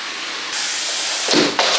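Steady, loud hiss of steam bursting from a steam cleaner aimed at a stain, a broad continuous spray that stutters briefly near the end, with no voices.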